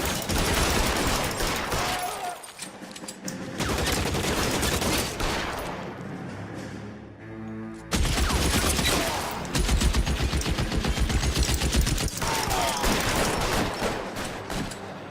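Gunfire in the video game L.A. Noire, with repeated loud bursts and volleys of shots crowding the whole scene, a brief lull midway before the shooting resumes just as dense.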